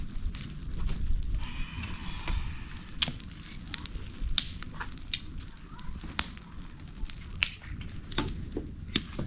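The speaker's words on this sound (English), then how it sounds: "So our fire has just light up very well, guys." Firewood fire burning outdoors, with sharp intermittent crackles and pops over a low rumble and soft background noise, moderately close.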